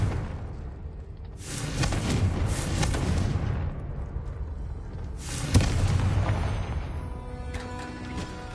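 A Confringo spell explosion in Hogwarts Legacy hits with a deep, loud boom followed by rumbling, and a second blast follows a few seconds later, both heavy and close.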